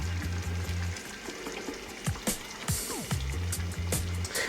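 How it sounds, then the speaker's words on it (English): Coconut milk pours into a simmering butternut squash and chickpea curry, a close, steady liquid gurgle with popping bubbles and soft clinks, continuous for several seconds with no talk. "So I'll add the rest of the coconut milk."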